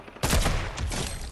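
A sharp sniper rifle shot in a video game bursts in loud after a brief quiet lead-in, followed by a sustained rumbling tail of game gunfire and ambience, with no talking.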